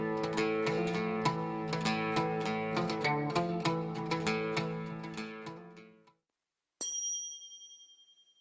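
Turkish lute, a wooden string instrument with eleven strings, played as a short plucked melody with ringing notes that fade out, followed after a brief silence by a single bright chime.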